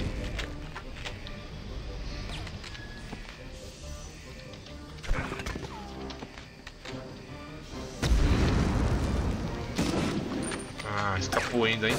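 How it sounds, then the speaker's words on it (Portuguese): Grenade going off in Medal of Honor, a heavy boom that lifts the level abruptly partway through, surrounded by game gunfire, mechanical clatter and someone talking excitedly. "Vai explodir a granada"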